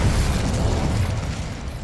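Incendio fire spell in Hogwarts Legacy, a loud whooshing burst of flame with low rumbling crackle that fades slightly over under two seconds.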